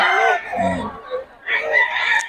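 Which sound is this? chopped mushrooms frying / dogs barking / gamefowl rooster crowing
gamefowl rooster crowing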